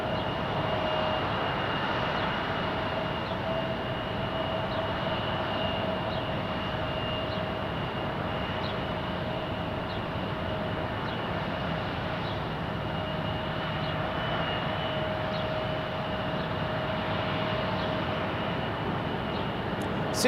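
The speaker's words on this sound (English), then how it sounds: "Jackson, as we check out this A220-300 landing on runway 35" An Airbus A220-300 airliner landing on runway 35 at Salt Lake City International Airport, a steady, fairly distant jet engine roar that holds evenly through the whole stretch with no talk.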